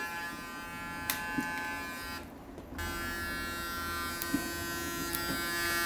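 Electric hair clipper trimming the lower hair down to 3–4 mm during a short sports haircut, a steady close buzz with a few faint clicks and a brief dip partway through.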